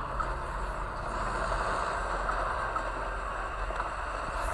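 Speeder bikes racing across the field in Star Wars Commander, a continuous loud engine whine and whoosh holding steady throughout with no voices over it.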